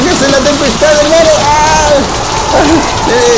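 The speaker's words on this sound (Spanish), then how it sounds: "¡Qué está lloviendo! ¡Es muy fuerte!" Heavy rain pours down in a storm at sea, a loud, dense, continuous roar with excited voices talking over it throughout.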